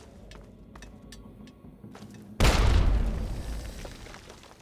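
A grenade blast in Fallout 3 bursts loud and close after quieter game ambience, its rumbling boom decaying over the following two seconds with no talk over it.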